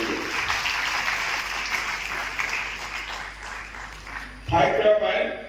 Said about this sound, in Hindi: बेटे जोरदार तालियां बजनी चाहिए।